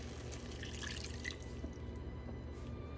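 A cup of water poured into a pan of cooked ground pork splashes and trickles briefly, close and fairly quiet, before fading into faint kitchen background.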